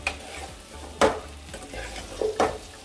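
Jackfruit curry masala sizzles softly in a pan over low heat, with two distinct scraping stirs of the spoon about a second and a half apart, close and clear with no voices.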